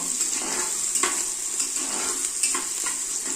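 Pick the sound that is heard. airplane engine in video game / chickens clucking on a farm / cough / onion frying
onion frying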